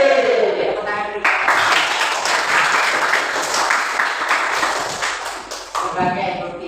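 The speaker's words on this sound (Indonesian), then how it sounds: "tepuk tangan dulu" A school class claps together in sustained, dense applause lasting several seconds, with a voice speaking before and after.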